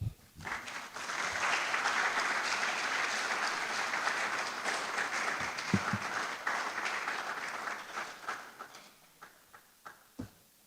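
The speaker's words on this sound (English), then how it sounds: "Let's give Dr. Mensah another round of applause." Audience applause at a public forum session on the cost of repair, many hands clapping in a dense, sustained wash that swells quickly, holds for several seconds, then thins out into scattered final claps.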